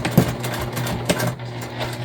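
A sewing machine stitches a bag seam in short, rapid bursts of mechanical clatter with a steady motor hum underneath, close and fairly loud, with a couple of sharper knocks.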